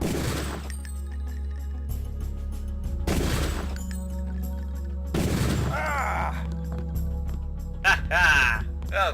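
Pistol gunfire in the video game Deus Ex Revision: three loud, separate shots a couple of seconds apart, each with a short ringing tail over a low game hum.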